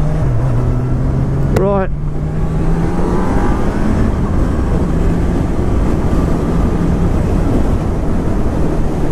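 A 2019 Honda CB1000R Plus motorcycle engine revs to about 6,000 RPM, rising in pitch and holding a loud, close roar on gravel, while someone speaks briefly over it.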